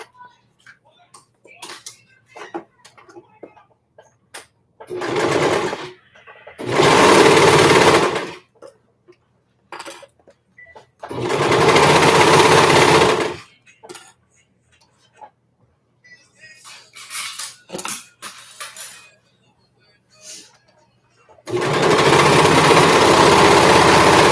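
A home sewing machine stitches fabric for a small lap tee in several loud sustained runs of a few seconds each, separated by pauses filled with small handling clicks and rustles.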